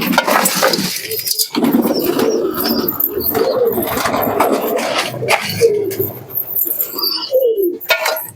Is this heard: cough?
no